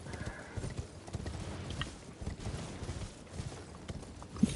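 Rapid, rhythmic hoofbeats drum along steadily, like a horse galloping at a fast pace in the video game Elden Ring, with a faint whinny-like sound near the end.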